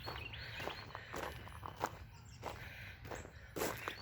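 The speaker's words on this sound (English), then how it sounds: "As you hear the rocks under my feet crumble" Footsteps crunching over loose rocks on an uneven gravel driveway outdoors, several distinct crunchy steps at an irregular walking pace, close and fairly quiet, with faint bird calls in the background.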